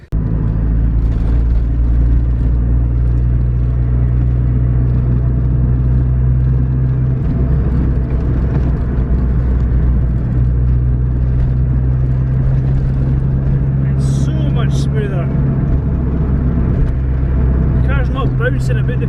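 A boosted Honda Civic on back roads gives a steady, loud engine drone and deep road rumble from inside the cabin, continuous throughout with faint rattles and no clear gear changes.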